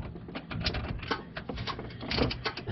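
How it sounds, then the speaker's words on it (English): A ratchet with a 14 mm socket works the belt tensioner on a 2011 Toyota Tacoma 4.0L, giving fast, close, dense mechanical clicking in uneven bursts that run steadily throughout. "I'm just going to come in here with my ratchet with a 14 millimeter socket."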